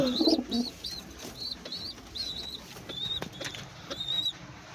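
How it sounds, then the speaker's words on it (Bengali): Teddy pigeon chicks coo and chirp close by in a short, quiet run of soft repeated calls, with a faint low murmur at the start. "এই যে দুটো দেখতে পাচ্ছ টেডি পায়রা"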